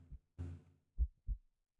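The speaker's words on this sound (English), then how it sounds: "You feel like you can hear your heartbeat" Heartbeat sound effect, slow and faint, with deep low thumps arriving in pairs against silence and no talking.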